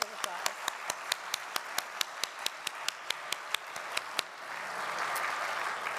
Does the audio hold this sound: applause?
yes